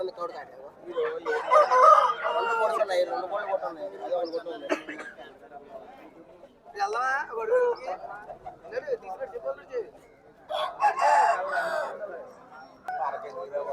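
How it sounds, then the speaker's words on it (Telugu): Roosters crow repeatedly at a Saturday country-chicken market, loud and nearby, while people talk and bargain over and between the calls. "ఇంకేమైనా తెచ్చారా కోడిపుంజులు"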